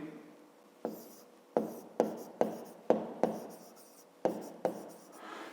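A pen scratches a math solution into a school notebook in a series of short, close strokes with brief pauses between them, clear and alone.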